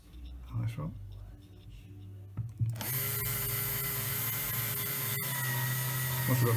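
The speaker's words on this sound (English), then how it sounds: "So we'll just put some pilot holes in. Just use a small pilot drill just to do that." A small pilot drill boring pilot holes through a template while a Rega Planar R200 turntable arm is swapped for an RB220, giving a steady, loud, close power-tool whine after a few quieter knocks and some talk.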